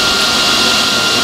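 A Miller Multimatic 200/215 multiprocess welder strikes an arc with a 6010 stick rod, a rod the machine is not designed for, giving a loud, steady, harsh hiss and crackle throughout with no talk.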